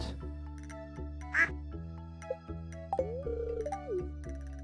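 Cartoonish duck quacks from the farming video game Stardew Valley, one bright burst standing out over a steady, tuneful game soundtrack with chimes and melodic blips.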